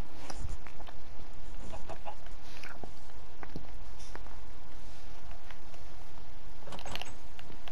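Chicken clucking in the video game Minecraft, a few short clucks scattered over a steady background hum, moderately loud and close, with no talk.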